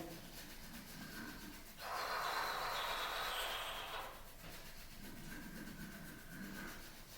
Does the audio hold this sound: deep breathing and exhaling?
yes